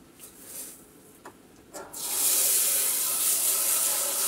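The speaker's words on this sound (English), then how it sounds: "Add the water to the rice." Water is poured into a pot holding 120 grams of basmati rice. A few soft knocks come first, then a loud, steady rushing splash that continues to the end.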